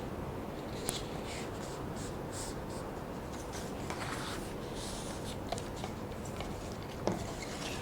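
A long paper strip folded along dotted lines with a ruler while making a simple periscope, giving a steady papery rustle and rubbing with a few light taps, close and continuous, with no talk.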